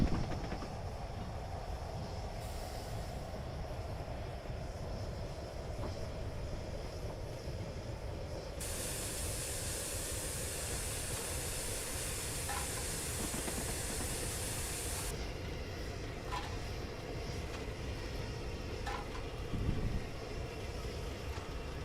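The Flying Scotsman steam locomotive runs in the Train Simulator Classic game with a constant low rumble and hiss, and a stretch of stronger steam hiss through the middle; no voices are heard.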